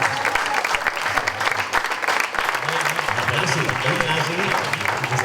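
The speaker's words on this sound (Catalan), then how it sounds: "improvisar un aplaudiment per Alfonso" Crowd applause at a Catalan corrandes singing gathering, dense and sustained, with voices talking and calling out beneath the clapping.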